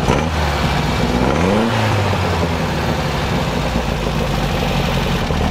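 A Beck 550 Spyder replica's engine idles steadily and loudly nearby, with a brief rise and fall in pitch early on as it settles into a smooth idle.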